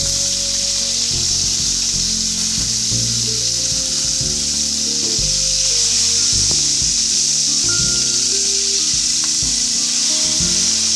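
Fish heads for a fish-head dal fry in oil and are turned over in the pan, with a loud, steady hiss and sizzle and repeated low scraping and knocking as the pieces are moved and flipped.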